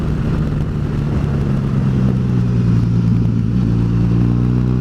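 A Honda VFR1200X motorcycle rides on winding Tasmanian roads, its steady engine hum close and loud over constant road and wind noise, the pitch climbing gradually as it accelerates.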